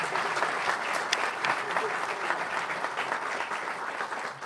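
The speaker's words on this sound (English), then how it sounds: "We need to clap." Sustained applause from an audience at a Secretary of State's economic development announcement, many hands clapping in an even, continuous burst of moderate loudness, with faint voices beneath it.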